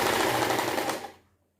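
A sewing machine stitching a bolster cover, a dense steady mechanical whir running for about a second before winding down and stopping, close and alone.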